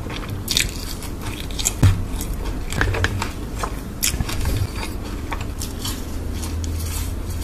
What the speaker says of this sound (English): his eating sounds are so calming